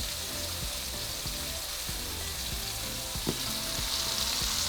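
Bread buns toast on a griddle beside frying bacon jalapeño cheeseburger patties, giving a steady close sizzle with faint scraping and one small clink.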